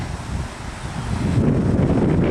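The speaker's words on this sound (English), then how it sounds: "you're going to hear some traffic here, and it's windy today." Heavy wind noise roaring across the microphone of someone riding a bike near traffic, strengthening partway through, loud and close.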